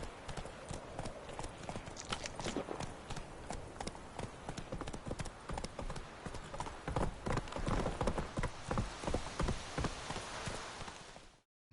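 Roach the horse galloping in The Witcher 3: Wild Hunt, a rapid, continuous clip-clop of hooves on the ground, fairly faint and steady throughout before cutting off near the end.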